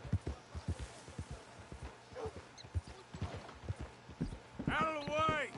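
Hooves clip-clop at a walking pace in Red Dead Redemption 2, moderately close, slowing toward the end, with a brief voice and a horse whinny near the close.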